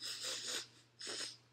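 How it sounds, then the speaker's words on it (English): Irregular, deliberate breathing by a person trying to wake from a dream: two long breathy rushes of air with a pause between, close and fairly loud, no talk. "doing really random breathing things"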